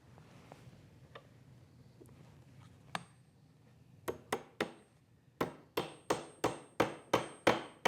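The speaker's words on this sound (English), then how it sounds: "those thread inside T-nuts that get tapped into a hole that I've already drilled" Threaded T-nuts are hammered into pre-drilled holes in a wooden leg assembly: a few scattered light taps first, then a quickening series of sharp, ringing metallic strikes, close and clear with no talk.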